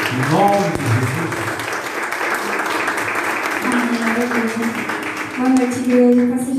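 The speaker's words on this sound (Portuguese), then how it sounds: "Você pode aplaudir, Rafael, em nome de Jesus." Church congregation at an evening worship service applauds steadily, a broad wash of clapping from a room full of people, with a voice speaking over it at the start and end.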